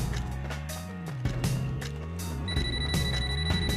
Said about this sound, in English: Last phone call of the game